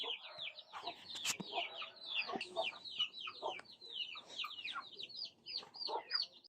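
Backyard chickens, a black Australorp rooster and hens, cluck and chatter continuously in a busy, overlapping chorus of calls, fairly close and moderately loud.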